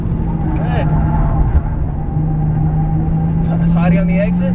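Porsche 911 Turbo S engine at full throttle on a race track, a steady, loud droning roar from inside the car with a rising tone near the end, under a voice talking.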